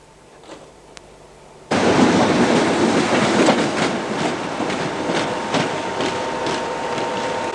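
Electric train at Orpington station starts up abruptly after a quiet platform moment, then rolls on as a loud, steady rumble with clattering wheels and rail noise, close by and continuous.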